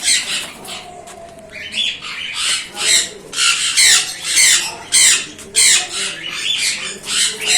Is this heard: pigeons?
yes